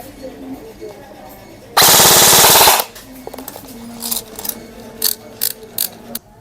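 An LT 29 Proline Gen2 airsoft electric gun fires one loud full-auto burst of rapid mechanical rattling for about a second, followed by quieter scattered clicks and handling noises.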